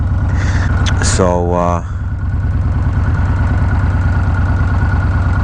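Motorcycle fitted with a Graffeo exhaust idling close by, a steady deep throbbing rumble throughout, with a brief voice speaking early on.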